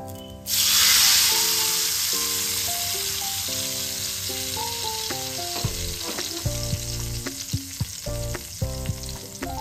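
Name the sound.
tempering of lentils, mustard, cumin, hing in peanut oil poured in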